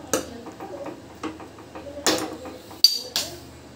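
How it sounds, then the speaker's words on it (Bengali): A metal lid goes onto a cooking pan of okra simmering in yogurt curry, with a few light clinks and taps followed by a sharp close clatter and a second knock as it settles, all without voices. "আমি ঢাকা দিয়ে দিলাম।"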